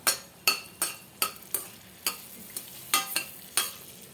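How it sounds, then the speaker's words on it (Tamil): Three dried red chilies fry in about four spoons of oil in a kadai, a quiet sizzle under a run of regular spoon scrapes and clicks, about two or three a second. "கடாய் வச்சுட்டு அதில் ஒரு நாலு ஸ்பூன் அளவுக்கு எண்ணெய் விட்டுருக்கேன் மூணு மிளகா வெத்தல் சேர்த்துக்கிறேன்"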